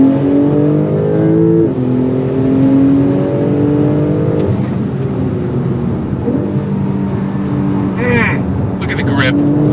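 2025 Porsche 911 Turbo S under full throttle, its engine pitch climbing in repeated rising sweeps between quick gear changes, loud and continuous over road roar, with a voice exclaiming partway through.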